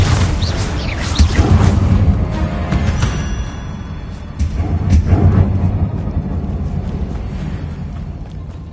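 Blasting spell explosions in the Hogwarts Legacy video game, loud rumbling booms that swell and fade across the stretch, with a second burst midway, over a dense low game soundscape.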